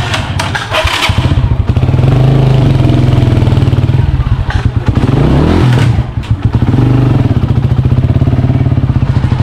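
Motorcycle engine running close and loud, a chugging idle broken by revs that rise and fall, with clattery mechanical noise and a brief dip midway.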